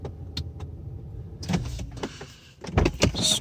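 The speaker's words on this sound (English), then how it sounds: "So let's turn off the car." An Infiniti M56 being switched off: a quiet electric whir and soft clicks, followed by a series of louder mechanical clunks and rattles close by, with no talking.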